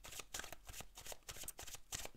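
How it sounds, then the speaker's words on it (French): Oracle cards are shuffled and drawn by hand in a quick, rhythmic run of papery riffles and soft slaps, close and steady, with no voice. "je vais tirer une autre carte"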